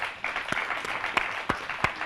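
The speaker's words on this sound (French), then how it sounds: "Je vous demande de les applaudir, s'il vous plaît." An audience at a French school awards ceremony applauds, giving steady, dense clapping with a few sharper individual claps standing out, moderately close, with no talk over it.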